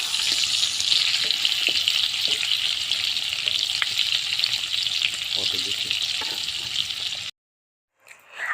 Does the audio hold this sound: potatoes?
yes